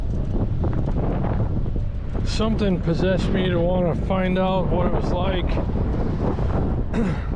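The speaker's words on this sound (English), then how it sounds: "ride my slowest electric scooter on a day when we're having the wind gusting to over 50 miles an hour" Strong gusting wind, with gusts over 50 mph, buffets the microphone during a ride on a Hiboy S2 Max electric scooter in Las Vegas, a loud continuous roar throughout while someone talks over it.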